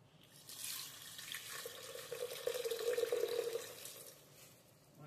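About a glass of water is poured into a pan of dal and spinach cooked with ghee and bay leaf, a steady close splashing pour that swells over a few seconds and then fades.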